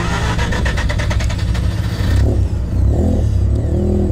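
Supercharged Mazda RX8 rotary engine revs hard in a loud, steady roar, then drops to a rougher idle as the pitch falls and wavers.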